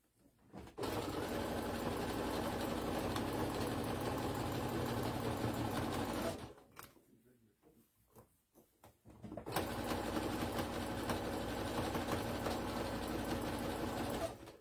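A home sewing machine stitching along a bra strap: a long, steady, close whirring run, a pause of a few seconds with faint handling noise, then another sustained run of stitching.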